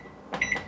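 A short clunk of a microwave door shutting, followed by two quick high electronic beeps, close and clear in a quiet room.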